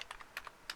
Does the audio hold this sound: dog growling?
no